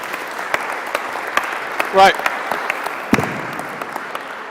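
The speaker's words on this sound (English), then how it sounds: "Round of applause, please." An audience at a talk on nature-based solutions for climate-positive cities applauds steadily, a dense wash of clapping throughout, with a brief spoken word cutting in near the middle.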